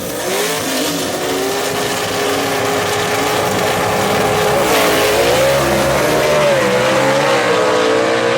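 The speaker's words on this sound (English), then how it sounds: "Both cars get a little squirrely about mid-track, and Jerry Burt knocks off Michael Oden." Vintage gasser drag cars run side by side down a dragway strip in a B-gas elimination race, their engines a loud, steady, rising roar held through the whole pass with a faint voice underneath.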